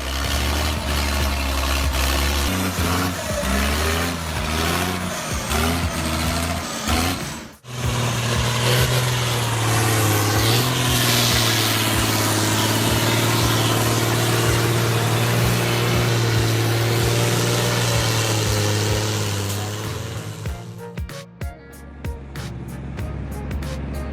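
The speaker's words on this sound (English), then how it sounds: "Despite sticky mud and tons of logs behind, the Fiat 1280 DT's about 130 HP easily powers through." A Fiat 1280 DT tractor of about 130 horsepower hauls tons of logs through sticky mud, its engine droning loud and close with a steady low rumble that strains, dips briefly, then carries on.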